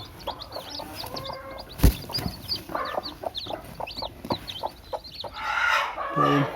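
A brooding hen clucks repeatedly in short, uneven bursts close by as eggs are taken from her nest, with other fowl calling and some rustling and handling noise in the background.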